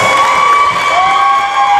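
A good-sized crowd in Wildcat Gym, a high school basketball gym in Sulphur Springs, Texas, cheers loudly and continuously, with shrill young voices and whistling carrying over the roar.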